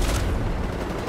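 Dense gunfire from the Ghost Recon video game, a continuous burst of shots and booms with no pauses, loud and close throughout.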